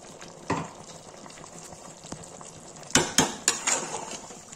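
Tomatoes are stirred in a cooking pot for chicken do pyaza, giving a soft cooking background with a lone knock early on, then a cluster of sharp spoon-against-pot clanks near the end.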